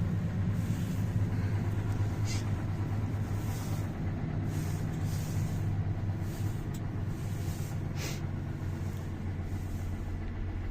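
A boat engine, fitted with a NOVATOR PRO hydraulic autopilot, drones as a steady low rumble throughout, close and continuous, with its revs dropping and no clear change in loudness.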